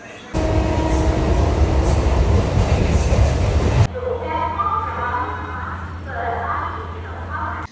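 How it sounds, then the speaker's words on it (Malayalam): Loud rumbling and clattering of the Ananthapuri train for a few seconds, then it cuts to quieter railway station ambience with a steady low hum and people talking. "ട്രെയിൻ ഇവിടെ വന്ന് കിടക്കുന്നുണ്ട്"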